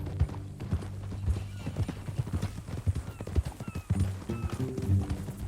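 Horse hooves clip-clop steadily on the ground in Red Dead Redemption 2, close and clear, in an uneven walking rhythm that runs throughout.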